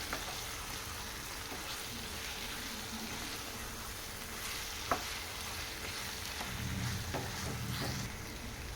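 Chilli chicken sizzles softly in a pan while it is stirred with coriander powder and salt. A steady frying hiss runs throughout, with faint utensil scrapes and one small tap near the middle.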